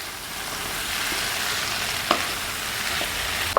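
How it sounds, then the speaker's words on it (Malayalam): Kadala roast, a chickpea curry, sizzles steadily in a pan after curry leaves are added, with a few sharp scraping knocks from stirring near the end. There is no talk. "ഇത്തിരി കറിവേപ്പിലയുടെ ഇട്ടൊന്ന് ഇളക്കി"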